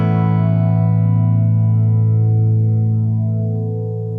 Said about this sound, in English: it still keeps going because that's this side of the guitar making that ethereal sound